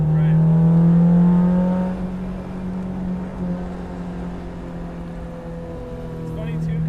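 A Datsun Fairlady 1600 roadster restomod with an SR20 engine drives on a winding road, its engine note droning steadily and easing off as it settles, heard from inside with people talking over it.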